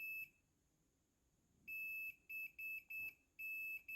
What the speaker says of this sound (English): So I'm going to get my multimeter out, put it into continuity mode